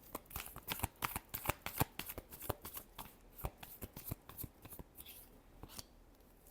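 Tarot cards shuffled by hand in a rapid, uneven series of crisp riffling slaps and flicks, close and fairly quiet, with no speech.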